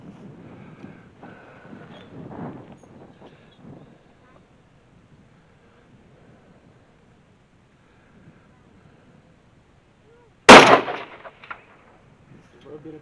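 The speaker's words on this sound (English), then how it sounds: "Go ahead and shoot it one more time." A single loud, close rifle shot cracks out during a mule deer hunt from a sandbag rest, after a stretch of quiet outdoor air and soft talk, followed by a brief low echo.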